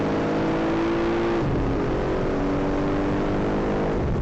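A car accelerates hard during a side-by-side pull with a Lamborghini Huracan, its engine note droning loud and steady and climbing in pitch, with no talk.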